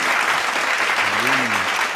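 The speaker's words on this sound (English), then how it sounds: "How about an applause for Daniel Lucas" Studio audience applause for Daniel Lucas on a sports podcast, a short steady burst of clapping with a voice briefly heard over it.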